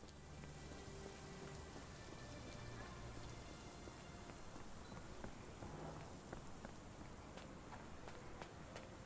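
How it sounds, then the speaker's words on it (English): Steady rain falls in the Sherlock Holmes: The Awakened video game, a faint, even patter on surfaces with scattered droplet taps, heard alone throughout. "This dreary rain is making a miserable day even worse."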